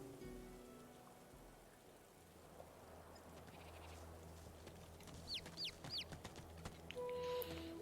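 A chicken in the fantasy role-playing game Divinity: Original Sin 2 gives a few short rising clucks midway, fairly faint over a steady rain-like ambient bed, followed by brief chiming tones.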